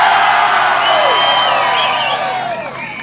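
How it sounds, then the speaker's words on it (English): A crowd at a car show cheers loudly for a Camaro, with whoops and shouts forming a steady roar that fades slightly near the end. "cheer now!"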